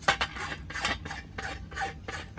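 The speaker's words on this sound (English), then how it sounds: "And then cleaning the axle here, WD-40, yeah, and a wire brush." A wire brush scrubbing a WD-40-coated axle on a 1998 Specialized Rockhopper FS mountain bike, a quick series of close, rasping back-and-forth strokes, about half a dozen in a steady rhythm.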